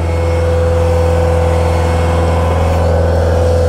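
A skid steer's engine drones loudly and evenly as the machine drives around a course. The steady, close mechanical hum holds without any break.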